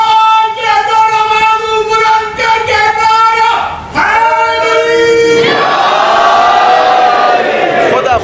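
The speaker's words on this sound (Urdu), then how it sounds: "اچھا نعرے ماشاءاللہ سے ادھر سے لگ رہے ہیں، ادھر سے لگ رہے ہیں" A large crowd at a Muharram majlis in Richmond Town, Bangalore, chants religious slogans in strong repeated unison calls, loud and close, rising into a broader roar of many voices toward the end.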